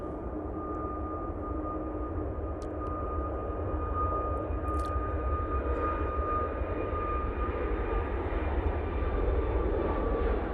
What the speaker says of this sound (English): Ryanair now departing.